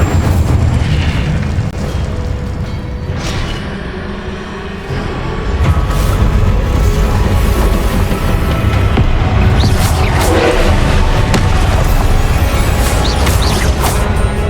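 Incendio fire spell cast in Hogwarts Legacy, heard as a loud, sustained roaring burst with booming, crackling energy that swells and continues through the span, with no voices present.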